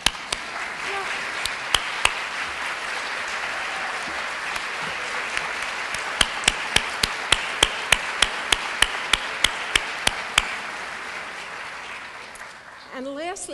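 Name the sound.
audience applause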